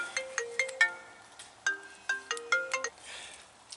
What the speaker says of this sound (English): And there's my phone going off.